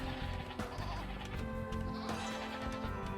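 Sheep bleating in the strategy video game Age of Empires 2 Definitive Edition, several overlapping wavering bleats with game sound effects layered beneath, loud and continuous.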